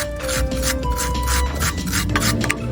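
The threads of a Ford Fiesta rear shock absorber's bottom nut bolt are scrubbed clean, giving a continuous close scraping and rasping of rapid back-and-forth strokes, with no voices.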